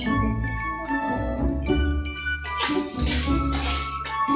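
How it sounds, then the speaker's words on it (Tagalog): Metal frying pan clanking on a stove while ham cooks for carbonara, with repeated light clinks and jingles over steady sizzling and background music-like tones, fairly close. "Pasensya na po kung naririnig niyo po yung ingay ng kawali."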